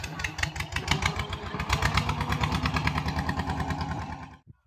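A boat engine chugs loudly and steadily in a fast, even rhythm as the boat pulls in to the Hemnagar ferry ghat on the Raimangal river in the Sundarbans, then cuts off abruptly near the end.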